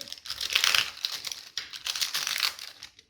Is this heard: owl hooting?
no